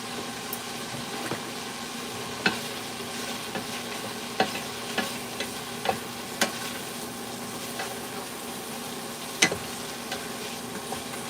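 Food frying in a pan, stirred with a wooden spatula, a low steady sizzle with irregular soft scrapes and taps over several seconds, close, with a faint hum beneath.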